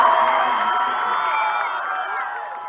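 Crowd at a high school 8-man football championship game at Southern Utah University roaring and cheering as the Gunnison Valley Bulldogs close out the win, a loud, sustained wash of voices slowly easing off.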